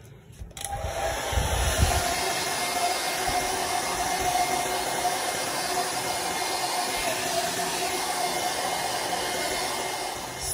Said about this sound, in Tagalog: Gamitan po natin yan ng heat blower para po lumambot yung mga glue na nakadikit dito sa ilalim ng back cover niya